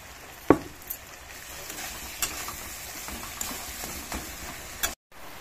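Mashed boiled potato fries in a pan with a soft, steady sizzle, broken by light taps and scrapes of a spoon stirring, close and fairly quiet.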